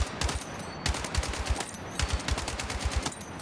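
An RPK machine gun is tap fired in Battlefield 6, producing quick bursts of loud, punchy shots in a rapid, slightly uneven rhythm with brief gaps between groups, close up and with no talk.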